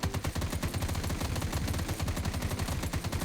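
Sustained rapid-fire AK rifle gunfire in a survival island video game, continuous dense bursts of shots filling the whole stretch, loud and close, with no talk.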